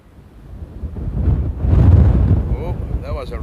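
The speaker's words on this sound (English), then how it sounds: "that was a rough patch of wind" At Amsterdam Airport, strong gusts of wind buffet the microphone in a swelling roar that peaks midway. A voice murmurs faintly underneath.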